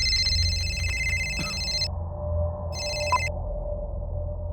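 A telephone bell rings in two electronic bursts indoors, the first long and the second shorter after a pause, over a steady low hum.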